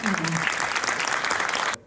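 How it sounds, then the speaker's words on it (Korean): Applause from the audience at a Korean jobs forum rally and book launch event, steady dense clapping filling the room for nearly two seconds before cutting off abruptly. "여러분 뜨거운 박수로 모셔보도록 하겠습니다"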